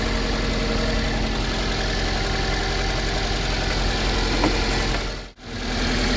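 A 2006 Toyota Corolla engine idles roughly from a misfire, a steady close mechanical drone with an uneven, lumpy pulse that runs throughout and cuts out briefly near the end.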